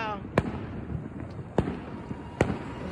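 Fourth of July fireworks burst in three sharp, evenly spaced bangs at moderate distance over a murmuring outdoor crowd, with faint voices between the reports.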